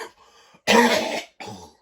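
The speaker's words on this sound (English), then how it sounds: "sorry, still got the cough still." A person coughs alone up close: a faint throat sound, then one loud, harsh cough and a shorter second one.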